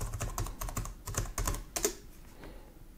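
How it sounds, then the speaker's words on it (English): Fingers typing on a flat wireless computer keyboard, a quick uneven patter of light clicking keystrokes heard close for about two seconds, then quiet. "Let's type something into the web"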